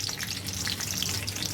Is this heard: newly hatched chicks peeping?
no